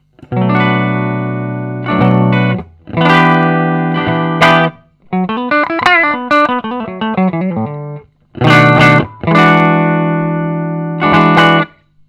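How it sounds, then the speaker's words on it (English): Clean electric guitar chords through a budget valve amp ring out in short strummed bursts with sustain, followed by a run of picked notes, then more chords, with no talking. "Let's have a listen to that clean tone."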